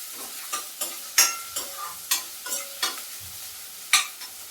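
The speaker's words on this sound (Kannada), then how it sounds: "ಇದಕ್ಕೆ ಈರುಳ್ಳಿ, ಚಿಕ್ಕದಾಗಿ ಕಟ್ ಮಾಡಿಟ್ಟಿರುವಂತಹ ಈರುಳ್ಳಿ, ಇದು ಒಂದು ಸ್ವಲ್ಪ ಫ್ರೈ ಆಗಬೇಕು" Finely chopped onion frying with garlic for Gobi Manchurian: loud, close sizzling under a regular series of sharp spatula strokes, roughly two per second, without any talking.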